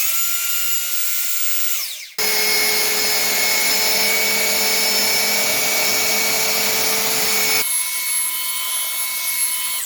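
Chicago Electric 3x21 belt sander switched on and running loud and close, a steady high-pitched motor whine with belt hiss that holds evenly, then drops in pitch and volume near the end.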